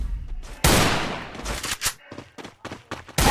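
Rapid gunfire from the video game Free Fire MAX: a long, loud burst of shots followed by a string of shorter, sharp volleys and single cracks, close and dense.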